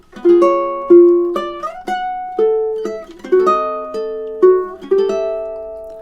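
Ukulele plays measures three and four of the romantic classical piece "Bella Vita", a moving line of plucked notes and unfamiliar chord shapes in a steady flowing rhythm, close, bright and unaccompanied.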